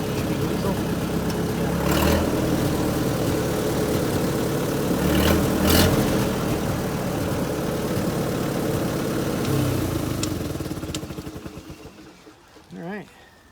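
A vintage Allis-Chalmers forklift engine runs loudly after starting, with an uneven idle, a few sharp revs and rumbling pulses, then fades toward quiet near the end, with a brief low sound at the close.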